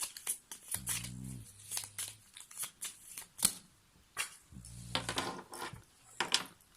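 A deck of cards is shuffled by hand during a card reading, heard as quick papery riffle bursts and soft slides, with two longer riffles standing out among lighter taps. It is close and fairly quiet, with no talk.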